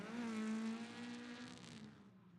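A drift car is pushed hard around a walled track, its engine screaming in a high sustained tone with tire squeal, loud and close before easing off at the end.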